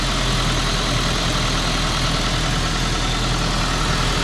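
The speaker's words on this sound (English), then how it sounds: "This engine is so much better." A Suzuki Sidekick engine idles with a loud, steady, even rumble, close up and continuous with no talk.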